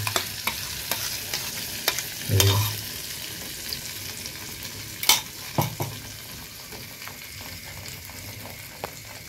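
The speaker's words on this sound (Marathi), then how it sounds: "आता हे तेलावरती लाल मसाला टाकलेला आहे ना, मस्त वरती तरी येते एकदम." Red masala paste frying in oil for a methi matar malai dish, a soft continuous sizzle with occasional spoon scrapes and taps as it is stirred in the pan.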